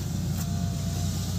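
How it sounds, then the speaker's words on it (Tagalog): A car's engine runs at a steady idle during a power window repair, a constant low rumble heard up close with no talk. "pinandar ko na lang muna yung sasakyan kasi mas malakas siya kapag naandar yung sasakyan"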